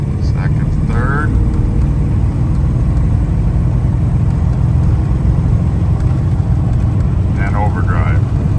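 A 1987 GMC K1500 pickup truck drives along, its engine drone steady and close throughout, with faint shift transitions barely distinct beneath the continuous cabin rumble.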